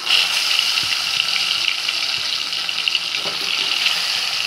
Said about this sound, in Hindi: तेल अच्छी तरह से गर्म हो चुका है, अभी इसमें हम डाल देंगे कोई माछ को